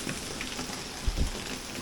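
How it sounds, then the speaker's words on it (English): Hail falling on the roof of a workshop, heard as a steady, dense patter with a couple of slightly heavier hits, fairly faint, no voices. "Don't know if I ever remember seeing hail like this here."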